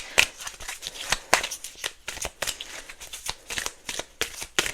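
Tarot cards being shuffled by hand, a string of quick papery riffles and flicks in uneven bursts, close up and moderately quiet, with no voices present.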